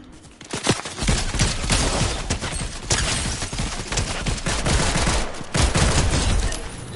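Rapid drum shotgun fire in Fortnite, a loud, dense string of close blasts that runs almost continuously, with a few brief gaps between bursts and no voices.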